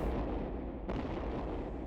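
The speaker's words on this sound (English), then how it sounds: "Oh wow, that explosion." A booming explosion effect from a PS1 demo video game rumbles with a dense, continuous roar, and a second blast hits partway through, loud and alone.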